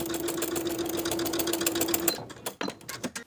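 A sewing machine runs steadily for about two seconds, basting a facing straight across the front bodice seam allowance of a flutter-sleeve midi dress, then stops and gives a few short, uneven bursts of stitching.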